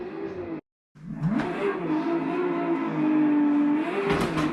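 A drift car at full throttle revs up through first to fourth gear at an RDS drift competition at Igora Drive, the engine note climbing in loud sustained pulls after a brief cut, with a sharp revving flick near the end.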